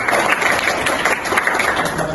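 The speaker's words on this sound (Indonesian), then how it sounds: "Beri tepuk tangan untuk kelompok 2." Classroom applause for a student group during a micro-teaching lesson; a brief burst of loud, dense clapping from a small group close by, lasting throughout.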